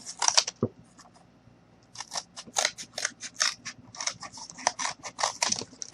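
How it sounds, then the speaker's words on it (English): Scissors snip out a paper heart for a Valentine's gnome craft, a close run of quick crisp cuts in irregular bursts after a brief pause. "I'm going to go ahead, cut that heart out."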